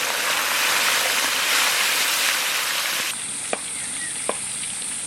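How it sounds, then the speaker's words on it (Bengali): Fish fries in a pan with a dense, hissing sizzle that drops abruptly partway through to a softer crackle, with a couple of sharp clinks near the end. "এক্ষুনি হয়ে যাবে মাছ ভাজা আমার"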